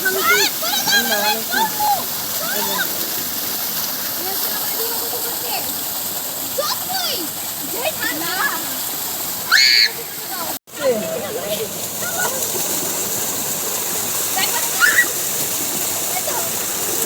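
Water from a deep tube-well pump in Rangpur gushes and splashes steadily during bathing, a loud continuous rushing roar with people talking over it throughout.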